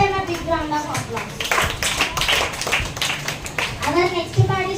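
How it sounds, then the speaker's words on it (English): Applause at a school assembly, scattered hand clapping from children rising and falling over several seconds, mixed with children's voices and a speaking voice. "Give them a big round of applause"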